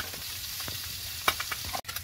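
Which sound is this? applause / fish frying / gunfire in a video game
fish frying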